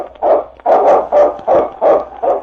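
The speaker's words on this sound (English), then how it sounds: "It's Yukon King, swiftest and strongest lead dog of the Northwest" Yukon King, a sled team's lead dog in a 1950 Northwest radio drama, gives six loud, evenly spaced barks in a quick rhythmic run, close and alone.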